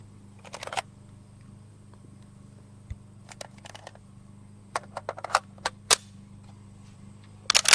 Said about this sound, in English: we have a mag insertion, Mm-hmm. and we've racked a charging handle.